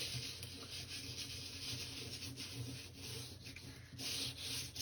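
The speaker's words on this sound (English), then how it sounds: "I'm going to use the flat side and just start kind of rubbing it over all my" Soft, continuous scratchy rubbing of a dark green soft pastel stick, flat side down, dragged back and forth over the raised edges of evergreen-forest embossed paper, close and quiet with steady strokes.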